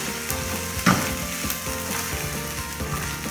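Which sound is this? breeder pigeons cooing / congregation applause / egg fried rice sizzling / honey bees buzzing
egg fried rice sizzling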